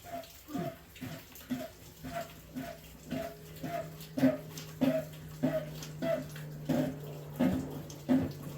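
Water drains out of a tank in a garage, coming as a series of rhythmic gulps and splashes at about two per second over a faint steady hum, fairly quiet and close.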